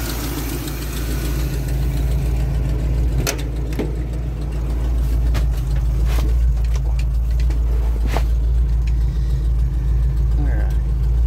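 A 1976 Ford F250 truck engine idles steadily up close with a deep, even rumble, broken by a few sharp clicks and knocks in the background.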